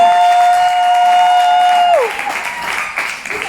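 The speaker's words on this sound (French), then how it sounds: "Acclamez pour Cynthia là." An audience at an event applauds for Cynthia, with dense clapping and some cheering that swells after a long held tone cuts off.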